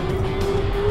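A Toyota Tacoma fitted with an Alcon brake kit brakes hard from 60 during a brake test, giving a loud, steady rush of vehicle and road noise with a sustained tonal hum throughout and no talking.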